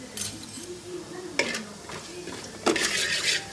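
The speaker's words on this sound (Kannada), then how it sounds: "ಈರುಳ್ಳಿ ಸೈಕ್ ಬ್ರೌನ್ ಆಗೋ ಮಟ್ಟ ಫ್ರೈ ಮಾಡೋಣ." Onions frying in oil with cumin in a large pan, a soft steady sizzle with stirring scrapes and occasional clinks of a utensil against the metal, close and moderately quiet.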